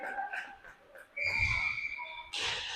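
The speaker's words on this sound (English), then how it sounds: "And there's the whistle." Referee's whistle at a youth 12U ice hockey game, a sustained high tone blown mid-clip over rink crowd noise, followed by a burst of broadband arena sound.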